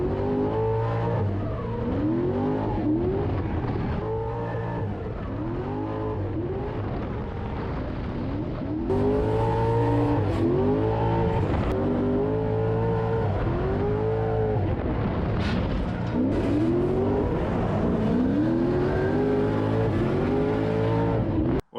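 Drift car circling a donut-shaped race track at the Mičevec event, its engine revving hard with rising and falling pitch through repeated slides and corrections, loud and continuous throughout with no talk.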